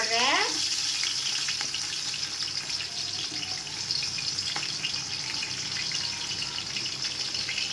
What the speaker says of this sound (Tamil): இப்போ நான் 2 பெரிய வெங்காயம் போடுறேன்.